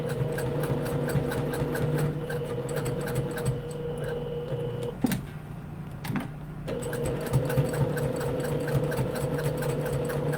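A sewing machine runs a second row of double top stitching, a fast, steady mechanical rattle close by that pauses briefly midway before resuming.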